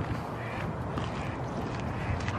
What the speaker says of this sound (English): Oh look, there's some ducks too already.